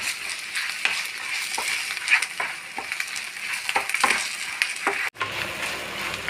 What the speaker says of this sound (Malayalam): കായം പിന്നെ ചെറിയൊരു ഉണ്ട കോൽപ്പുളി നെല്ലിക്ക വലിപ്പത്തിൽ എല്ലാം കൂടി ഫ്രൈ ആവട്ടെ